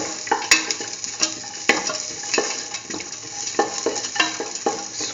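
Salt being stirred into rice in a hot pan: repeated scraping strokes of a utensil against the pan at an irregular rhythm over a steady sizzle, close and fairly loud, with no talk.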